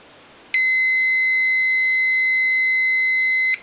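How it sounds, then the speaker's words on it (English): A multimeter set to continuity emits a steady, clean electronic beep when its two leads touch, a single tone lasting about three seconds before cutting off, alone against faint background hiss. "if you heard that signal from the meter, that's a dead short"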